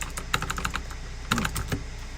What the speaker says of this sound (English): Since I like the loud, clicky switches, this keyboard really is for me.